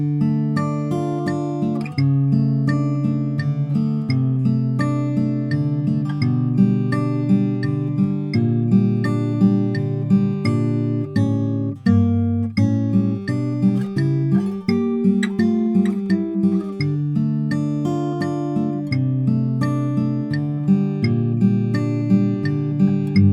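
Acoustic guitar fingerpicks the verse of a song, a steady, close flow of plucked notes and ringing arpeggiated chords that runs unbroken for over twenty seconds with no talking.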